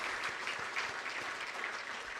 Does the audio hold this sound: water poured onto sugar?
no